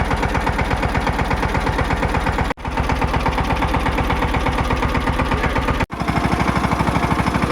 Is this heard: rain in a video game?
no